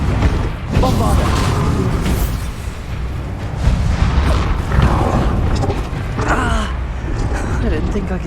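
Bombarda blasts burst amid Hogwarts Legacy combat, several booming explosions and crackling spell effects layered with game sound and character shouts, loud and busy throughout.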